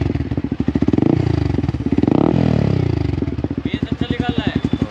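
A Yamaha R15 V4 motorcycle fitted with an R77 aftermarket exhaust runs loud and close, its deep, bassy idle pulsing steadily before a sharp rev swells and falls back to the throbbing idle.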